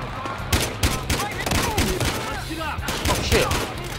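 Video game gunfire in Battlefield Hardline, rapid bursts of shots and automatic fire cracking repeatedly at close range, mixed with game voices and other action sounds.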